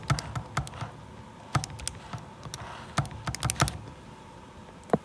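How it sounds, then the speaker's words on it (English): Fingers tap numbers into a calculator in quick, irregular bursts of sharp little clicks, close and fairly quiet, with short pauses between keypresses. "Let's go ahead and type this in our calculators."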